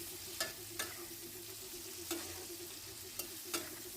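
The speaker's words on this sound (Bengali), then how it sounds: "ভালো করে তেলে ভেজে নিতে হবে।" Soft, steady sizzling of whole spices and dried red chillies frying in oil, punctuated by several sharp scrapes and taps of a stirring utensil against the pan.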